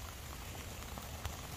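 Steady rain from a heavy thunderstorm falls continuously in a soft, even hiss, faint and unbroken, with no voices present.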